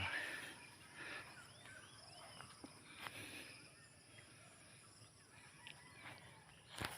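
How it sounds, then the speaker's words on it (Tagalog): Faint bird calls and chirps drift over a quiet outdoor background with insect buzz, scattered and distant, on a mountaintop. "At marami pang ibon na atin naririnig."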